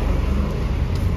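A car passing along a street, heard as a steady, fairly close low engine and road rumble that holds evenly throughout the short moment.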